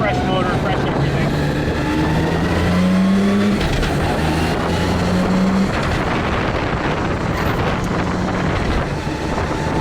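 A Nissan R33 with a PPG sequential gearbox pulls away in first gear on a fresh engine, its engine droning loud and close with rising and falling tone under heavy wind buffeting, and voices faintly mixed in.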